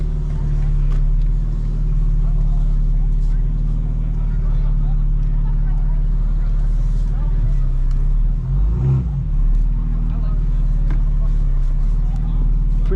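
A 2025 BMW M4 Competition xDrive drifting out of a car meet, its engine droning steadily from inside the cabin with a brief rev near the middle, heard under people talking.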